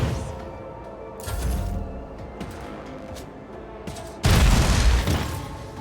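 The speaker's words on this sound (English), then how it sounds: "Force grenades." Force grenades in Warhammer 40K: Rogue Trader go off as muffled booms, a softer blast early on and a louder, sustained burst near the end, with scattered impact sounds between them.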